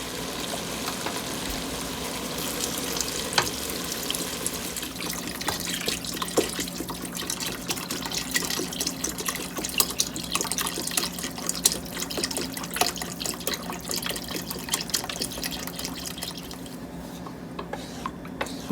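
Beef broth pours into a pot of French onion spices, making a steady, close wash of liquid splashing and gentle sizzle that runs continuously and fades slightly near the end.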